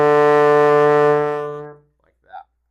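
A single trombone note, started cleanly with the tongue and held steady for nearly two seconds before fading out, followed by a brief faint sound in near-silence.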